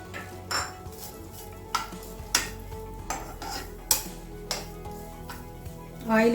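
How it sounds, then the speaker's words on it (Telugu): Coconut pieces dry-roast in a pan without oil, stirred with a utensil that knocks and scrapes against the metal in a series of distinct clacks over a faint background hiss. "ఇప్పుడు ఇదే పాన్లో కొబ్బరి ముక్కలు కూడా వేసుకొని 1 నిమిషం పాటు"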